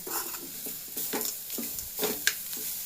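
Jaggery pieces stirred into a cooking coconut mixture, soft repeated scrapes and gentle sizzling at close range, with one brief metallic tap near the end.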